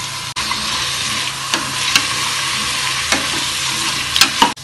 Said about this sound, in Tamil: பீன்ஸு, பச்சை பட்டாணி இது எல்லாத்தையும் போட்டு பச்சை வாசனை போகிற அளவுக்கு இதையும் வதக்கிக்குவோம்.